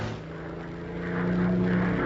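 Droning engine of an early propeller airplane, a steady low hum that swells slightly louder toward the end, with no talk.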